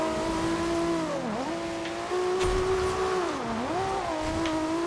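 A tuned Toyota Supra in Forza Horizon 2 with upgraded engine, gearbox and suspension drones steadily, its engine pitch dipping and rising twice as it slides through corners, with faint tire scrubbing and no voices.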